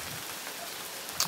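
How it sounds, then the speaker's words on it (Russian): Rain patters steadily on surfaces outdoors as a downpour tapers off after a late-May thunderstorm, a soft even hiss of drops with a couple of brief louder splashes near the end. "Ну, как бы дождь заканчивается."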